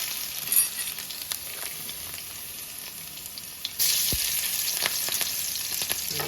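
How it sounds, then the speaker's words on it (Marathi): Garlic frying in oil for a spicy prawn curry, a continuous sizzle with occasional crackles and a brighter surge of hissing partway through, close and without talk. "इकडे आपण मस्त तेल टाकलाय त्याच्यानंतर टाकून लसूण"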